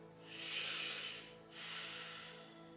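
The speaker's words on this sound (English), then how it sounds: "feeling how you're expanding as the air flows in through your nostrils and how you deflate as the air exhales" Deep breathing in and out through the nostrils during a yoga session: one long airy inhale followed by a slower exhale, both soft, close and breathy against near silence.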